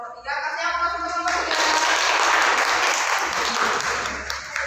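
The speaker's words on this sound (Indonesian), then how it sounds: "Kasih aplaus untuk kelompok" A classroom audience of fellow teachers applauding a group after its presentation in a practice teaching session. A voice speaks over the start, then dense, loud clapping carries through the rest of the clip.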